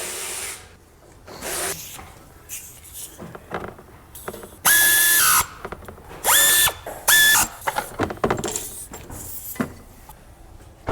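A ratchet wrench tightens the front alternator stud on a Ford 500, giving short bursts of quick metallic clicking separated by pauses, close and fairly clear, with some faint handling noise between the strokes.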